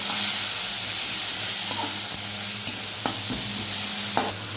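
Tomato drops into frying onions for egg dal, a continuous hissing sizzle with a few light clinks and scrapes of stirring, close and steady, no voices.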